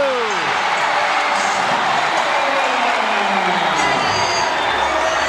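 Home crowd roaring at a professional basketball game between Laguna and Nueva Ecija in Nueva Ecija, a loud, continuous wall of cheering and whooping that never lets up, with excited voices rising through the din.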